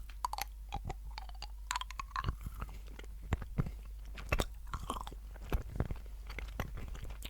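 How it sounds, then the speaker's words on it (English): Chewy candy being bitten and chewed close to the mic, with irregular soft crunches and wet chewing clicks spread through a quiet background. "So both these candies are quite chewy candies."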